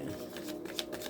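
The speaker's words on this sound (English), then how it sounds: "I'm going to pull from those cards" A quick, close riffle of tarot cards being shuffled, soft papery flutters with one sharper flick near the end, no voices.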